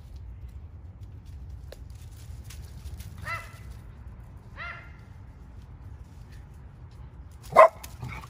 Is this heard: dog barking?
yes